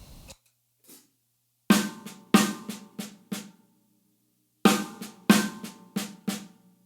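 Sharp drum set strokes playing a double paradiddle in two quick bursts of four, the first hits of each group accented and the rest lighter, with faint soft taps before them.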